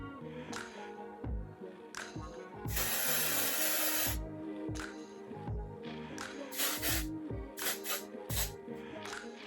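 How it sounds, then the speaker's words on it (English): Hairspray hisses in several bursts, one long spray and a few short ones, close by amid handling and rustling sounds. "shake it out as I'm spraying the product"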